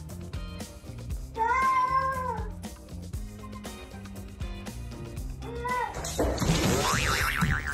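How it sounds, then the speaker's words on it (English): A cat gives two drawn-out meows over steady background music, the second followed by a burst of bright electronic effect sounds; no talking. "But when she opens her mouth and meows,"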